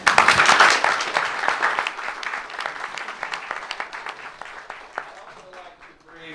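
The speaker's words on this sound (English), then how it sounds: "Let's give her a round of applause." A crowd at a school board meeting applauds loudly, the clapping strongest at the start and then thinning out over several seconds.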